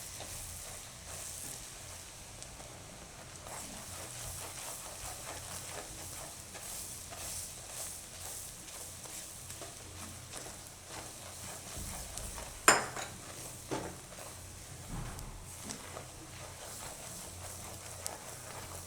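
Mixed vegetables with flour are stirred and fried in a pan for a Gujarati bhaaji ghuto, giving a soft, steady sizzle with repeated scraping strokes and an occasional sharp clink of utensil against the pan.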